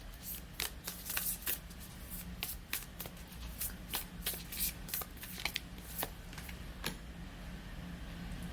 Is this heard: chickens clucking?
no